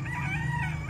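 Game fowl stag rooster on a small farm in Calamba, Laguna, crowing in one steady call that fills the whole second, with low farmyard noise under it.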